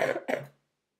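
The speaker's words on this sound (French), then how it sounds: "Pardon, ça fait un mois que je tousse comme ça." Two quick coughs in close succession, fairly near and loud, then silence.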